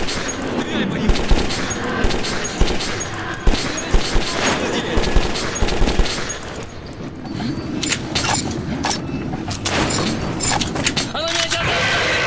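Gunfire in the video game Metro 2033, with bursts of automatic fire and scattered shots rattling through a dense, busy battle mix while voices shout over the action.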